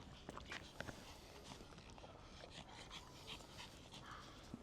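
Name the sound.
dog panting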